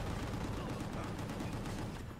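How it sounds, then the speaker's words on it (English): Dense, continuous battle noise from a video game, with rapid gunfire and explosions blending into a loud, sustained roar throughout. "Can we stop with the damn explosions?"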